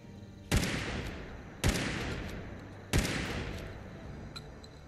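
Three heavy Halo weapon shots from a modded Fallout 4, each a sharp loud crack with a long rolling decay, spaced about a second apart.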